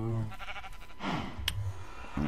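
A Minecraft sheep gives a brief bleat, then a second faint one follows in a quiet game scene with light background clicks.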